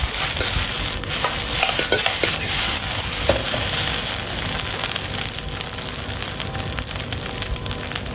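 Food being stir-fried in a pan until cooked through and loose, a steady close sizzle with scraping stirs and clinks of a utensil against the pan throughout, no voices.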